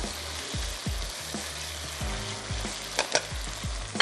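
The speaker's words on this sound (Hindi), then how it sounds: "इसमें राइस ऐड करते हैं और थोड़ा सा राइस को इसके साथ दम भी लगा देंगे" Rice goes into a frying pan for Mexican rice and is stirred, with a soft steady sizzle under regular scraping and thumping spatula strokes; no speech.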